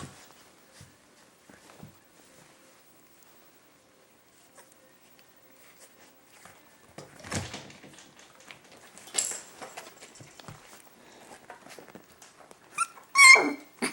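A young puppy gives a few faint, short yips, mixed with soft scratching and shuffling, in a quiet indoor space, getting louder toward the end.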